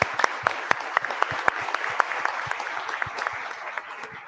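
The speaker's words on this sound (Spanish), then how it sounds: "un aplauso a nuestros profesores invitados" An auditorium audience at an international forum on social justice and education applauds invited professors, a sparse, fairly close patter of individual claps that continues steadily throughout.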